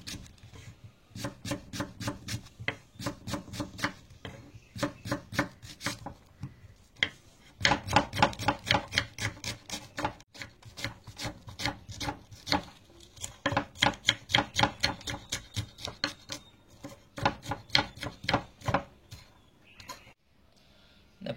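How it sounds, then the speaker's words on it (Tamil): A knife chops onion and green chillies into small pieces on a board, giving rapid, even, close-up taps in bursts with brief pauses between runs, with no voices. "இந்த வெங்காயத்தை பச்சை மிளகா சின்ன சின்னதாக வெட்டிக்கலாம்."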